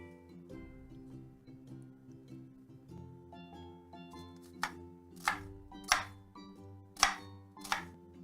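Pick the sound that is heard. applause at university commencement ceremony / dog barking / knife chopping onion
knife chopping onion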